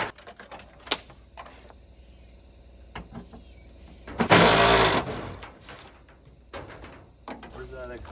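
Power tool backing bolts out of a Dodge D200 Sweptline crew cab truck during rocker and floor pan work, one loud sustained burst of whirring in the middle among scattered clanks and shop noise.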